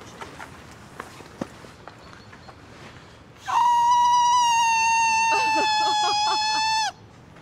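A single loud, sustained whistle from a person, held steadily for about three seconds after a few soft footsteps and knocks, close and clear with no talking over it.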